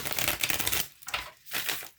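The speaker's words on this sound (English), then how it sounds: "I am going to shuffle the tarot until a card is an indicator card" Tarot cards being shuffled by hand: a dense, papery riffling rustle, loud and close, in irregular bursts with a short pause near the middle.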